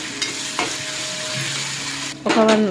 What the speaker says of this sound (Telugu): ఇప్పుడు వేపుకోవాలండి. మంచిగా కలిపేసుకొని